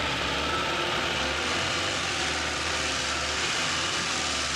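An old abandoned Coca-Cola truck's engine runs with a steady, broad rumbling drone, loud and continuous throughout.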